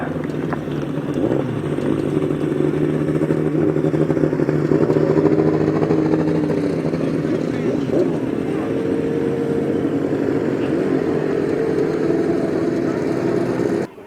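Right-hand sidecar motorcycles race on a grasstrack at the 2018 Battle of Britain meeting, their engines droning steadily and loudly under a public-address announcer's voice.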